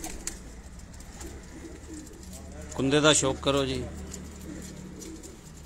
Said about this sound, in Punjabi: ਦੁਬਈ ਵਾਲੇ ਟੈਡੀ ਕਬੂਤਰਾਂ ਦਾ ਸ਼ੌਕ ਤੁਹਾਨੂੰ ਕਰਾ ਰਹੇ ਹਾਂ ਜੀ